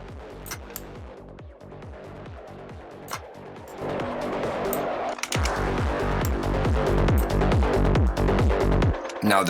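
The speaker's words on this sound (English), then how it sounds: "Now, the reason it sounds like this is because it's distorted." A distortion effect applied across a full mix makes a gritty, saturated texture with repeated rhythmic hits, growing louder and denser about halfway through and staying steady to the end.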